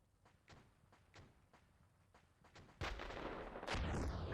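Rounds striking a tank in Steel Beasts Pro PE: faint, evenly spaced thuds recur before a sudden loud impact and a sustained roaring rumble with a sweeping tail, no voices.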